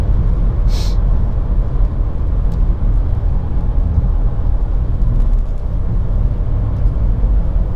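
A VW 1.4 TSI with DSG gearbox and tuned software pulls away for a launch and hill test on wet ground, its engine a steady, loud low rumble with road noise throughout and a brief sharp click early on.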